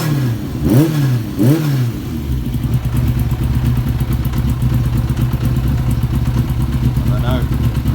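A Yamaha XJ600 motorcycle engine idles with an exhaust blow, a steady throbbing four-cylinder run with a fast ticking pulse, preceded by a couple of brief rising rev blips near the start.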